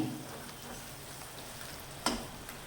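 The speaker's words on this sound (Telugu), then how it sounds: "మంచిగా కలిసేటట్టు కలుపుకోవాలి." Aloo poha is stirred in a pan over a soft, steady frying hiss, with a sharp utensil knock near the end.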